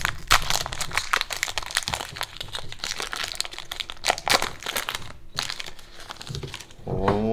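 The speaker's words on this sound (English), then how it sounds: "Opening Pokemon cards again." A Pokemon Scarlet & Violet 151 card pack wrapper crinkles and tears close up, a dense run of sharp foil crackles and rustles with brief pauses.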